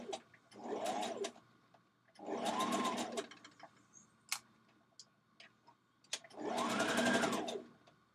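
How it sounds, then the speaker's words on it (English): A sewing machine stitches fabric for a Vogue Patterns 1236 dress in three bursts, each a steady whirring run of about a second or more. Quiet gaps with small ticks and clicks fall between the bursts. "So we're going to stitch that in."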